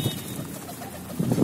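Pigeons coo softly nearby at a feeding tray in low, rounded murmurs, with a couple of fuller coos near the end over light background noise.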